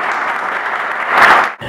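Steady, dense applause fills a municipal council chamber in Sousa for councillor Thomas Marques at his swearing-in. The clapping swells slightly near the end, then drops briefly and resumes.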